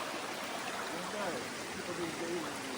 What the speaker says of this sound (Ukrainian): Це річка Богдан.